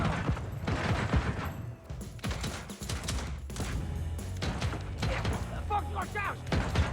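Dense bursts of gunfire and explosive thuds from a Deathloop match run almost nonstop, with mechanical clanks between volleys and a player's voice talking over the action.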